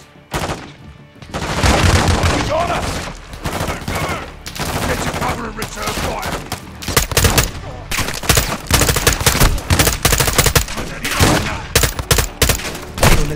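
Heavy gunfire rattles through a Call of Duty Modern Warfare 2 firefight, with dense bursts of automatic weapons and sharp single shots continuing loudly throughout, mixed with shouting voices.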